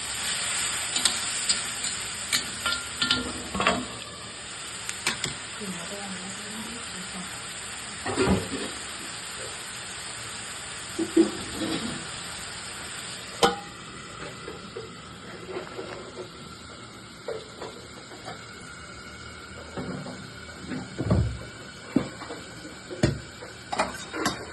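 Chopped onions with salt sweating in a covered pan for vankaya pulusu curry, a continuous soft sizzle with scattered clicks and scraping knocks throughout, close up and without voices.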